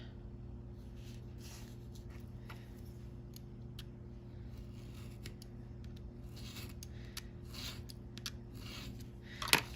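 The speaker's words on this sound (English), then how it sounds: "How about we cut it to be straight?" Quiet, irregular snips and rasps of scissors cutting a straight edge on paper page tabs, close and soft over a low steady hum, ending in one sharper click.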